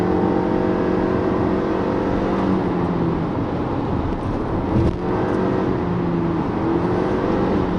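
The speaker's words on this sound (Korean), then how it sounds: "스포츠 모드에서 제법 강한 그런 퍼포먼스를 보여줍니다. 엔진 소리도 살아나고요." Engine of a 2016 Toyota RAV4 hybrid pulling hard in sport mode, a steady loud in-cabin drone with rising harmonic tones as it accelerates, no voices over it.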